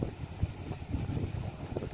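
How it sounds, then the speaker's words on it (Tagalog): Strong wind blows across a farm field of oat plants, a steady low roaring rush with buffeting gusts against the microphone and no voices. "Malakas pa rin yung hangin."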